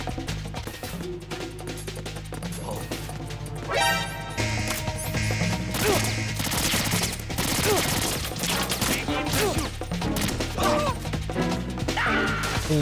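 Gunfire in a video game, loud and close, shots and crashing impacts mixed into busy game sound and music, with a few rapid bursts through the middle.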